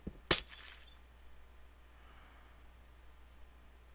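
A single sharp shatter of a glass pane being broken in Minecraft, loud and bright at first, then a brief tinkle that fades into quiet background.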